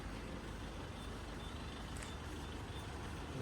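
Trucks queue at a petrol station in Lipat Kain, Kampar, Sumatra, with a faint, steady rumble of idling diesel engines and brief high beeps, distant and continuous with no talk.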